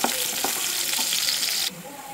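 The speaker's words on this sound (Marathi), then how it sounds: "आता त्यामध्ये कापलेला कांदा टाकायचा. तो छान तपकिरी रंग येईपर्यंत परतून घ्यायचा." Chopped onion sizzling and frying in oil in a pan, stirred until brown, a loud continuous hiss with faint stirring scrapes that drops abruptly near the end.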